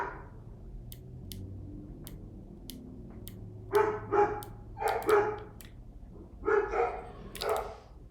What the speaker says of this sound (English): Sorry about the barking dogs.